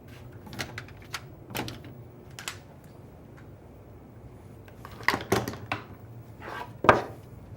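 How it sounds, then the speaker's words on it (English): Clamps are picked up and handled for gluing edging onto a wooden cabinet face frame, giving sharp clicks and knocks of metal on wood in scattered bursts, with quiet gaps between. "I'm just going to grab some clamps."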